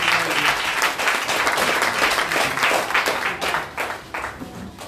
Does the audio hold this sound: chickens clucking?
no